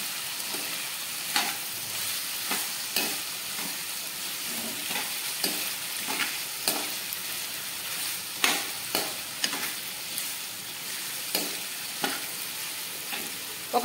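Bottle gourd pieces frying in oil, a steady moderate sizzle carried through with repeated light scraping and tapping stirs of a spatula, no talk.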